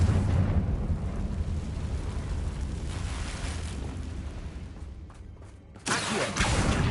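A Confringo fire spell explosion in the video game Hogwarts Legacy, a loud sustained roaring blast that fades over several seconds before a second sharp burst erupts near the end.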